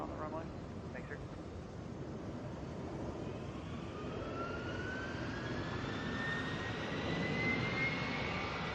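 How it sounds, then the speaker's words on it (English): A 26-year-old Boeing 757 jet airliner at Atlanta airport produces a distant, faint jet engine rumble with a rising whine that builds slowly toward the end, and a voice is heard briefly early on. "26-year-old 757 headed to Santa Ana here."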